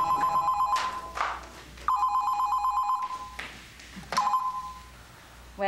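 A landline telephone rings indoors in a Taiwanese TV drama, sounding three loud electronic ring bursts spaced a couple of seconds apart, with quiet gaps between them.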